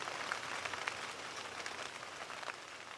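Rain falls steadily on a downtown street in Helena, a dense, even hiss of drops on asphalt and runoff heading into a storm drain, with no voices.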